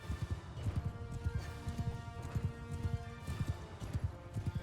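Horse hooves pound in a steady galloping rhythm during a medieval battle in Mount and Blade II: Bannerlord, continuous and moderately loud with no voices.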